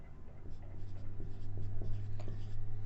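Marker or chalk writing on a board during a numerical analysis mathematics lesson, a steady run of soft strokes and scratchy taps over a constant low hum, with no talk.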